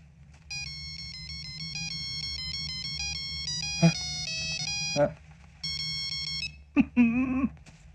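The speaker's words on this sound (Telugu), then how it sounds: "Ring tone sir. Ring tone." A phone ringtone plays a bright repeating electronic melody for several seconds, stops, then resumes briefly, with short voice bursts between the phrases of the tune.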